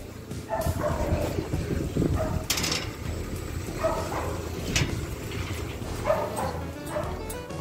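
Several dogs, including a pit bull, bark and yip in short bursts amid whimpering and background clatter, with people talking throughout.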